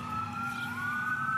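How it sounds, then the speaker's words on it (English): Distant emergency sirens wailing faintly, rising and falling tones heard from a garden. "I don't know what's going on with all the sirens, but I hope everyone is okay."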